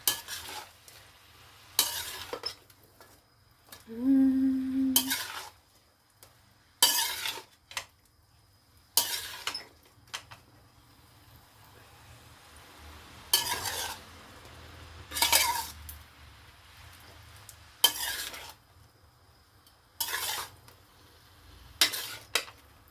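Pancit noodles with shrimp stirred in a hot pan, with repeated bursts of metal utensil scraping and clinking over a soft, steady sizzle, no voices.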